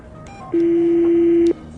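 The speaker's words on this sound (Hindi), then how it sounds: "उसने फौरन फोन डायल किया" A telephone sounds a single steady electronic tone, loud and close, lasting about a second, with quiet room noise before and after.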